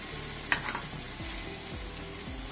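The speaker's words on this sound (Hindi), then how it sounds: "और यहीं पर हम पालक डाल देंगे" Fresh spinach tipped into a pan of sizzling masala with Kashmiri red chilli for a chana dal palak dish, giving a sharp clatter of leaves landing over a steady close hiss of frying, with no talk.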